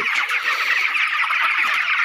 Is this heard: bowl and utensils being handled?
no